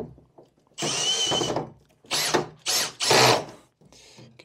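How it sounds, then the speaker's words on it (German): A power screwdriver drives screws into a DIN rail for an electrical distribution board, with four short close whirring bursts separated by brief pauses and no talking. "und dann schrauben wir jetzt einfach hier"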